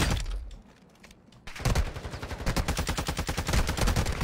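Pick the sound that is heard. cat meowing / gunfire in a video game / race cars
gunfire in a video game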